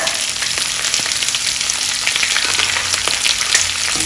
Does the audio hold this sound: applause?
no